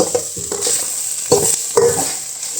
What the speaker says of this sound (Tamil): முட்டையை போட்டு வதக்குறோம்